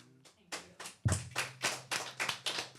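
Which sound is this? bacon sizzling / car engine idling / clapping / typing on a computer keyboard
clapping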